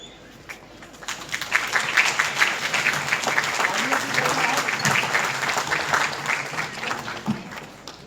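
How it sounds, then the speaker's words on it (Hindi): Applause from an audience greeting a student on stage at a school guidance event swells after a second and carries on densely to the end, with a voice speaking briefly underneath. "तालियों की गड़गड़ाहट रुकनी नहीं चाहिए"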